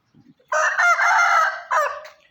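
A fighting rooster crows once, loud and close, a single drawn-out call ending in a short final rise, with a couple of faint clucks just before, in the morning.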